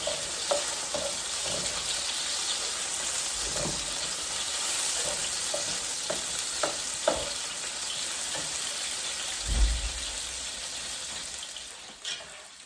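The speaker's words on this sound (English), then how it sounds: "So while these seasonings are frying out" Steady frying sizzle of seasonings fills the whole stretch, with occasional stirring clinks and scrapes against the pan, close and fairly loud.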